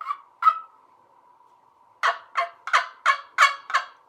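A wooden box turkey call with a screwed-on lid is scratched along its edge to imitate a hen, giving a held yelp then a quick series of six sharp, raspy clucking yelps, loud and close with no talk.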